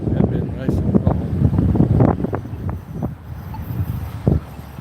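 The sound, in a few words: wind blowing outdoors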